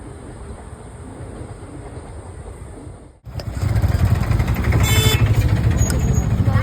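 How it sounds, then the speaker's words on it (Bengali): A train passes a railway level crossing: a steady rumble, then a sudden jump to a loud, close roar of rolling wagons with rhythmic clatter and a sharp high squeal, no talk. "আমরা এখন রেলগেটে দাঁড়িয়ে আছি, এক্ষুনি ট্রেন আসবে।"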